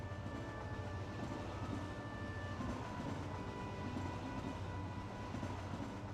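A train rumbles past with a steady, continuous roar and a faint rhythmic rail clatter in the Kingdom Hearts 2 video game. It has no voices and holds an even loudness throughout.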